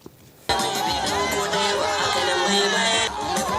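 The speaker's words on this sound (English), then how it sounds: "Cheers from the crowd all the way as the Vice President and his entourage come into the meeting point at the State House." A crowd cheers and clamours continuously as the Vice President and his entourage arrive at the State House meeting point, a dense loud roar that starts abruptly after a brief quiet moment.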